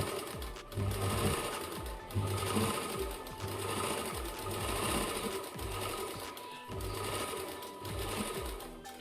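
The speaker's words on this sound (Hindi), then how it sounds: "और सिलाई लगा लेंगे।" A sewing machine stitches a blouse's main fabric together with its lining, running in steady continuous bursts with brief pauses between stretches of stitching.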